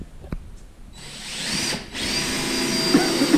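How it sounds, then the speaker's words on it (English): A power drill with a pre-drill bit whirs into wood for a bedroom built-in, a short steady whine that starts after a brief pause, dips for a moment, then resumes, close and loud. "Just giving it a quick pre-drill at one spot"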